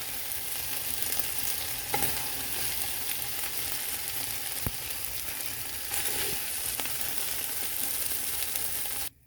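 Sautéed vegetables sizzling in a hot pan during cooking of shrimp and chicken tri-color penne, a steady close hiss with occasional faint stirring taps and no talking.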